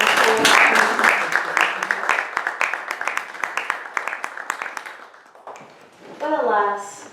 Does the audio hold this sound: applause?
yes